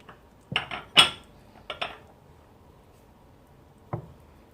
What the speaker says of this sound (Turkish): Karıştırıyorum.